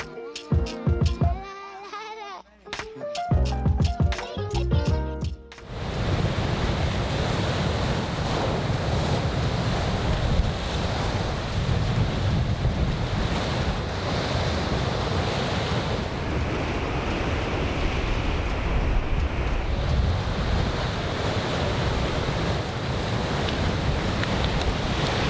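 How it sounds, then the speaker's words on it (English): Ocean surf crashes against black lava rock along the coast of Maui's Road to Hana, a loud, continuous roar of waves buffeted by heavy wind noise, following a few seconds of bleating sheep at the start. "there's this amazing black lava rock with these waves crashing up against it, causing these huge splashes"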